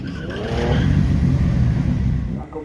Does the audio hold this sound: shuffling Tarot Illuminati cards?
no